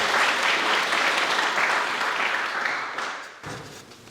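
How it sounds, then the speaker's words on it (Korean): Audience at a Buddhist question-and-answer dharma gathering breaks into strong, dense applause that holds steadily, then tapers off and trails into quieter scattered claps near the end. "큰 박수 부탁드립니다"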